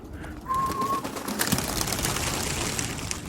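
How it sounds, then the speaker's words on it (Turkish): Pigeons take off from a loft, a burst of wing flapping and rustling with a short bird whistle, moderately close and steady for several seconds. "Bak kuşlar kalktı."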